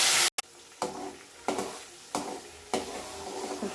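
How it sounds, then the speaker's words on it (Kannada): Spiced masala for pudina bath frying in a pan with cloves and cardamom, a steady sizzle broken by several scraping stirs at regular intervals, close by and with no talking. "ಸ್ವಲ್ಪ ಚೆನ್ನಾಗಿ ಫ್ರೈ ಆಗಲಿ"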